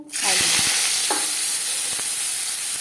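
Potato pieces drop into hot refined oil in a pressure cooker, a sudden bubbling burst of sizzle that settles into a steady close hiss with a few light clinks, no speech.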